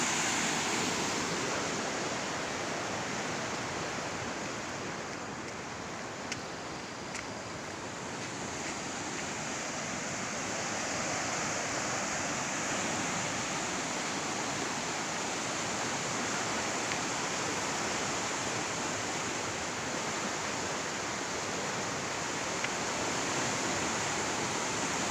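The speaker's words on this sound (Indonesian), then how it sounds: "kedengaran suara arus air yang begitu deras" A river current rushes continuously from upstream near a breached embankment, a dense, even roar of flowing water with no pauses and no voices.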